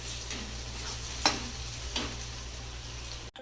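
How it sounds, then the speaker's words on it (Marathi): Cumin and mustard seeds fry in oil with a soft, continuous sizzle, punctuated by a couple of faint spoon taps against the pan. "आणि जिरं मोहरी, आता ह्याला सोनेरी कलर येईपर्यंत परतून घेते"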